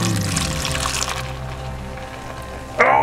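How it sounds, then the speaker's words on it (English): Beer pours into a pot in a kitchen before brats go in. The liquid splashes and gurgles at close range, fading partway through, then a sharper splash near the end. "New pot. Pour in the beer."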